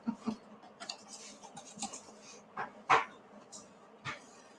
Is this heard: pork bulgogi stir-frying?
no